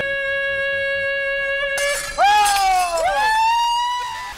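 A wine glass shattered by a loud sung note of 556 Hz at 105 dB: a sustained pure tone held steady, then a sudden bright crash of breaking glass with sliding, ringing tones afterward.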